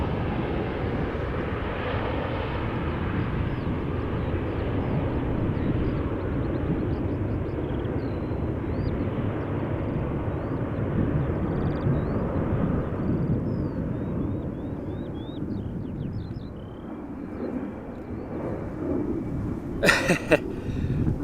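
A Ryanair airliner at Amsterdam Schiphol Airport gives off a loud, steady jet roar that holds for the whole stretch. It eases slightly toward the end, with no voices over it.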